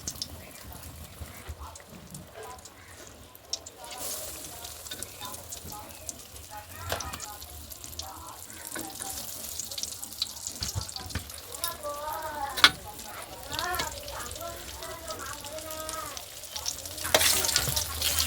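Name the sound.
eggplant slices frying in oil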